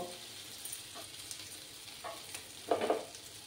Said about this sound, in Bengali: তেলটা গরম হয়ে গেছে, এবার আমি দিয়ে দিলাম।